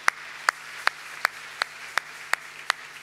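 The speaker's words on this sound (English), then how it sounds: "Can we clap unto the Lord?" A church congregation claps in unison at a steady, moderate beat, nine sharp, evenly spaced claps over a quiet room with no talking.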